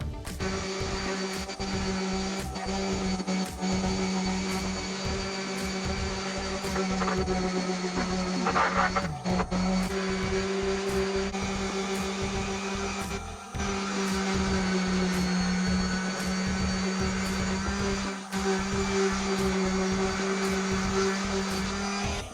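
A power sander fitted with 220-grit paper works over a bare solid oak 1979 table top, giving a steady close motor whine with a grinding hiss that dips briefly as the sander shifts, then runs on.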